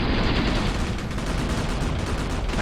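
Dense, continuous battle noise from a tank under fire in the Graviteam Tactics war game, set in Afghanistan in 1988: loud, rumbling gunfire and impacts blur together with no pauses and no talking.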